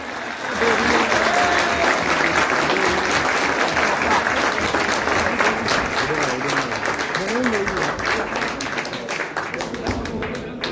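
An audience at a pigeon-flying club prize ceremony applauds a champion, with dense, sustained clapping throughout and a voice talking over it.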